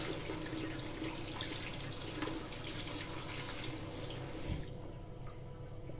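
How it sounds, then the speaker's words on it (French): Running tap water pours steadily as a glass is rinsed under it, close and continuous with small splashes and a light knock near the end before the flow quiets, with no one talking. "on rince bien tout"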